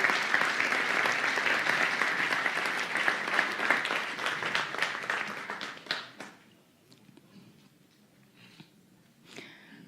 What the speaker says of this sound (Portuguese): Gostaria de pedir os aplausos para eles